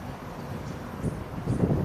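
Strong wind buffets the microphone outdoors on a trip in Terengganu, a steady low rumbling roar that swells louder toward the end, with no voices.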